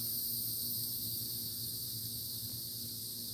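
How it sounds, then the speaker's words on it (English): Steady high-pitched insect chirping, dense and continuous, like a chorus of crickets at night with a faint low hum underneath. "Y'all hear all them crickets and them bugs and whatnot,"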